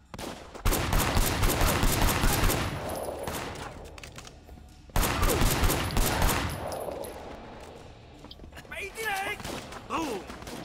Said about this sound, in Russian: Стреляй, стреляй!